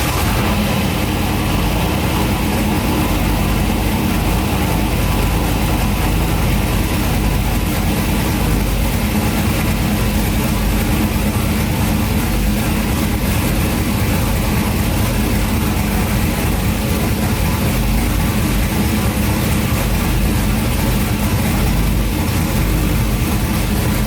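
A turbocharged Cadillac Escalade with a BTR Stage 3 turbo cam idles with its exhaust cutout open, a loud, steady, deep engine rumble running continuously and close, with no talk.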